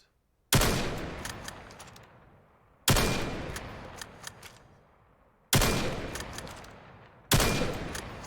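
Four loud sniper rifle shots from the VR shooter Vail, each a sharp close crack followed by a long decaying echo tail, spaced a few seconds apart with no talking.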